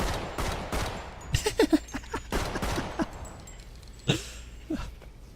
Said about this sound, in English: They're shooting at the boss.